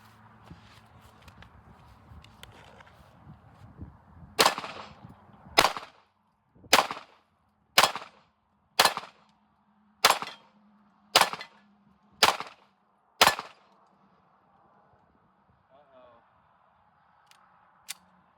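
Ten sharp shots from a TISAS PX9 pistol, evenly spaced about a second apart, loud and close, with quiet near-silence afterward and one faint later click.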